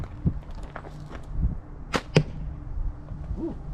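A Barnett sling bow looses an arrow outdoors toward a large distant target, giving a quick snapping release followed moments later by a second sharp crack, then quiet.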